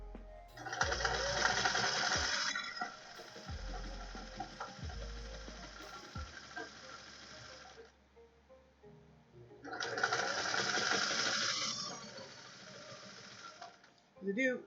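A sewing machine runs a wide zigzag stitch near the edge of fabric for a mixer cover. It whirs loudly in two long bursts separated by a quiet gap, with thuds and light handling noises and some speech between.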